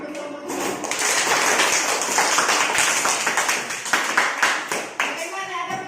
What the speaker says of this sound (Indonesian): Ayo tepuk dulu untuk kelompok 3